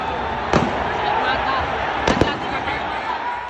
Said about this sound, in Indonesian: tiba-tiba menembakkan gas air mata secara acak ke tribun selatan